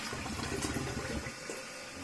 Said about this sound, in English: Go ahead and flush it.